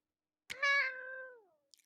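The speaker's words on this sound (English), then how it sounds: "Say hi to your cats for us." A pet cat gives one clear, drawn-out meow that falls in pitch, close by in an otherwise quiet room, followed by a faint tick.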